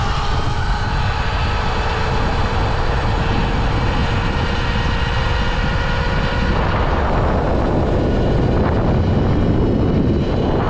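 A 72-volt Sur Ron electric dirt bike ridden hard near full throttle, giving a steady loud whine mixed with heavy wind rush that stays constant throughout, with no voices.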